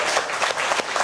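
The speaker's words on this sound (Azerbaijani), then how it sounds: "alqışlayırıq" A studio audience at a comedy talk show breaks into a short, dense burst of clapping, many hands patting at once at a fairly loud, steady level before cutting off.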